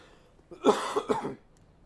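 A short, close cough: a quick cluster of two or three hacking bursts in a quiet room.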